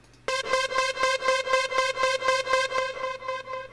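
A Logic Pro Classic Trance channel strip sampler plays a rhythmic run of bright, evenly spaced synth notes through a delay effect, giving a pulsing electronic pattern with repeating echoes and no voices.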